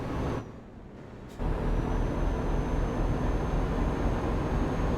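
A heavy truck in Euro Truck Simulator 2 starts loud, drops to a quieter rumble after a hiss, then surges back to a loud, steady engine roar that continues to the end.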